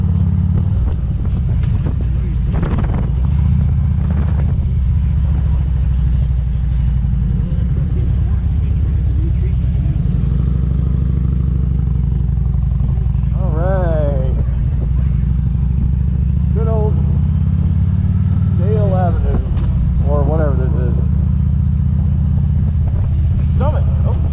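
A motorcycle engine drones steadily under load climbing a steep hill, a low continuous rumble with shifting pitch, while people talk over it intermittently.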